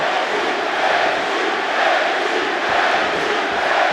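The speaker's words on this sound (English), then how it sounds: "Pro Gaethje crowd being heard from early" A dense arena crowd at a Madison Square Garden fight between Gaethje and Chandler roars in a continuous, loud wash of cheering that holds steady throughout.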